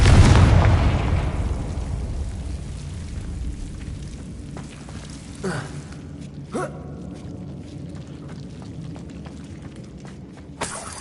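A Confringo spell explosion in Hogwarts Legacy opens with a loud, heavy blast whose rumble fades over several seconds, followed by a few smaller sharp bursts.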